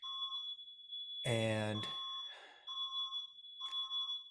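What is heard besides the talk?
smoke alarms going off in a house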